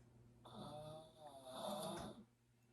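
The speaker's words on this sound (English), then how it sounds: "Who is snoring?" A person snores in two long, drawn-out rasping breaths, fairly close and clear against a quiet background, with a brief pause between them.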